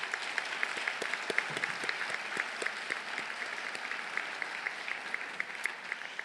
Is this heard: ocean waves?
no